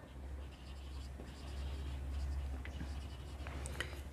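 Pen scratching across paper as an accounts figure is written out, soft steady strokes close by over a low background hum, with no speech.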